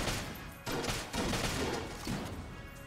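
Void shotgun firing in the Enter the Gungeon video game, three heavy blasts roughly half a second apart, loud and close, each trailing off before the next, with no talking over them.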